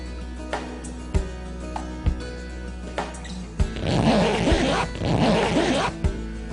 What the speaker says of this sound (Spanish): El zipper, bragueta, cremallera, cierre o como le quieran llamar, es uno de los inventos que nos ha facilitado la vida